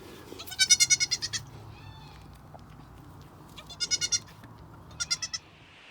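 A dairy goat bleats in three short bursts of quavering cries, fairly close and clear against a quiet barn with faint low background noise.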